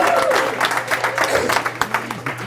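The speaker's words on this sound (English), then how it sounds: "let's give Deborah a good round of applause" Audience applause for a woman named Deborah, a short burst of uneven, fairly close hand claps with distinct individual slaps standing out and fading toward the end.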